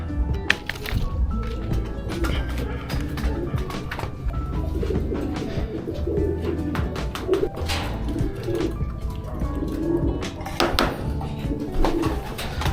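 Racing pigeons coo and flutter at the loft as birds return from a 400 km derby race, with steady cooing, wing claps and occasional knocks against a background hum, close and busy throughout.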